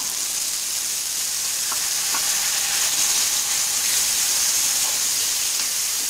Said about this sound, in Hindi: एक से दो मिनट तक इनको लगातार चलाते हुए भूनेंगे।